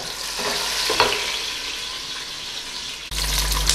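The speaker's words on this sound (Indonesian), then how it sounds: "Kita lanjut dengan menumis si bawang bawangnya ya. Ini kita tumis sampai coklat ya" Shallots and garlic sautéing in hot oil for oxtail soup, a steady close sizzle with brief stirring clatter, louder and brighter near the end.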